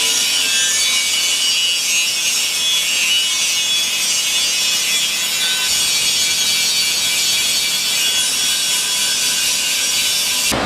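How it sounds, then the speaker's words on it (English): Stainless steel exhaust pipe being ground during an exhaust builder's kit install on a 1987 Pontiac Trans Am GTA, a loud, continuous, harsh abrasive grinding that stays steady and close throughout. "because it's going to take a while to grind"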